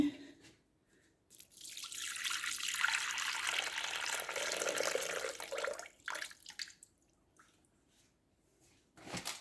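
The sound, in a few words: pouring water into a cooking pot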